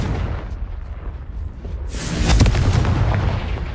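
A spell-cast explosion in the Hogwarts Legacy video game goes off as a loud booming blast partway through, swelling out of a low rumbling background and fading slowly.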